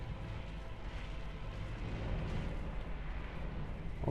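A dragon in Dark Souls 2 breathes fire in a loud, sustained roaring blast with a deep rumble that fills the whole stretch without a break.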